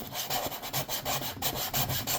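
Light hand sanding of a carburetor intake gasket surface on a triple Weber 40mm setup, a steady close rhythmic rasping rub with regular back-and-forth strokes, alone without talk.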